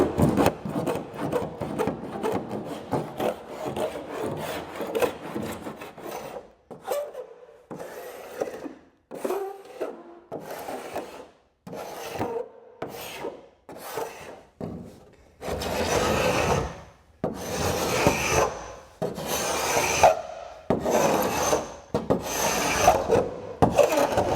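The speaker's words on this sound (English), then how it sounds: "the only way that this scraper works is by pulling" A scraper drags over glue inside a kayak hull in a long series of rough, rasping strokes, some sustained and some short, separated by brief pauses, with close, scratchy texture throughout.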